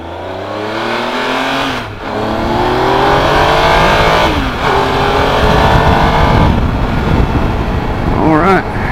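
A 2015 Triumph Tiger Explorer 1200 motorcycle accelerating hard through several gears, engine pitch climbing and dropping at each shift, loud and close with heavy wind rush, and a voice speaking briefly near the end.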